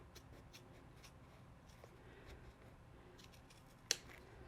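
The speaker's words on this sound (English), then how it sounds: "I might be able to do it with the spring scissors" A single crisp snip from spring scissors cutting handbag fabric, one sharp click near the end over a quiet room hiss.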